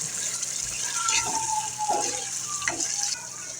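Onion and tomato cooking slowly in a pan over low heat give off a steady soft sizzle, with a few brief scraping stirs and light clinks partway through.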